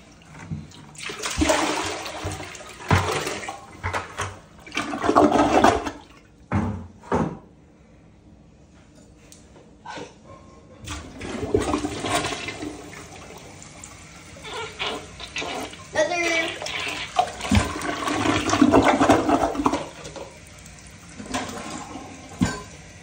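A toilet flushed by pouring a bucket of water into the bowl, heard as several loud rushing, splashing surges separated by quieter gaps with some clunks and handling noises.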